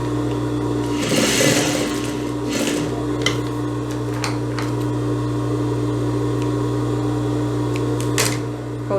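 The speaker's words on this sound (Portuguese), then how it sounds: "Vou passar a costurazinha aqui," A sewing machine runs a stitch on a blouse, a steady close mechanical whir with short bursts and clicks as the fabric is fed, quiet and alone without talk.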